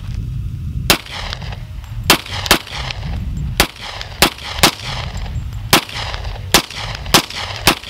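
Pistol shots firing .45 ball ammunition outdoors at a desert shooting spot in Lucerne Valley, about ten sharp, loud reports spaced unevenly over steady wind noise.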